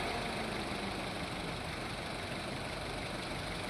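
Toyota Etios Liva petrol engine idling with a cylinder misfire, a steady close hum with faint uneven low pulsing and no voices.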